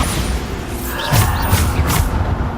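Hogwarts Legacy game combat with the Bombarda blasting spell: a few dull booming thumps land in quick succession over a busy background wash.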